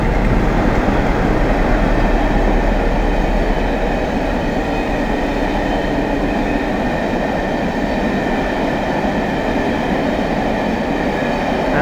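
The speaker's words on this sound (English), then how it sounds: "And here's the charter train" Charter train 1Z60, hauled by class 47 locomotives 47760 and 47798, rumbles past close by at Nuneaton, loud and unbroken, a dense roar of wheels and engine filling the whole stretch.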